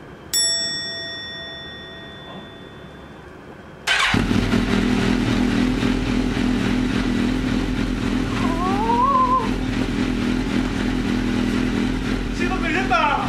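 A motorcycle engine cranks and catches at about four seconds, then idles loudly and steadily, close by, with a faint revving waver and people talking over it.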